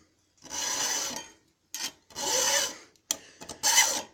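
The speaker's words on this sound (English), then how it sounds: "You just take your file." Hand file rasping along a steel knife blade in slow separate strokes, three longer passes and several shorter ones with brief pauses between them, close and clear with no talk.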